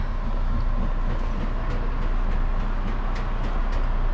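An Amtrak passenger train stopped at a station gives a steady, loud low rumble of engine and carriage noise, continuous throughout, with a few faint clicks and no talking.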